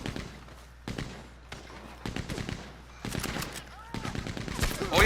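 Repeated rapid machine gun bursts in a fantasy co-op video game rattle out in several clusters, growing denser and louder toward the end, with faint voices underneath.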